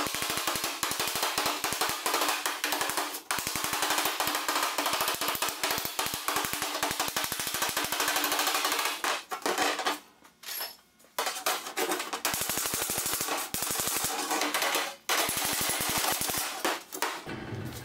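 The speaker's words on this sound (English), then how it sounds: "I can just finish it off with a hammer and dolly" Sharp metallic hammer-and-dolly blows on the steel body panel of a 1956 Chrysler Windsor during a 4-door to 2-door conversion, a rapid, dense run of loud close-up strikes with brief pauses, no talk.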